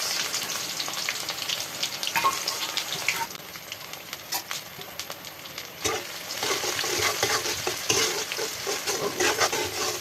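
Onions frying in mustard oil give a continuous loud sizzle while a spoon scrapes and stirs them in the pan, close up, with no talking over it.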